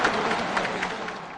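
Crowd of Muslims and Europeans applauding together at a gathering, a steady dense patter of many hands, fairly distant and even throughout.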